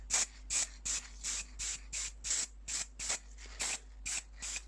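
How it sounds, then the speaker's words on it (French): Gloss varnish sprays from a nearly empty aerosol can onto a sanded and filled car mirror part in about twelve short, evenly spaced hissing bursts, close and clear with no talk. "j'ai la bombe de vernis brillant"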